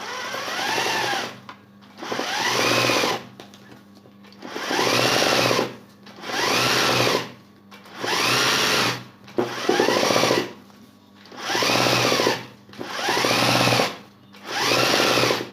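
Sewing machine stitches a chain stitch for hand-style embroidery along a border, in repeated bursts of rapid mechanical stitching about a second long separated by short pauses, close and clear with no speech.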